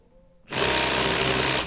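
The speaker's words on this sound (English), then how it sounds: "Use my little electric 3/8" A small electric 3/8-inch impact gun zips on abruptly to remove brake caliper bolts during a front disc brake change on a Suzuki Reno, a loud, close, steady whirring burst after a quiet moment.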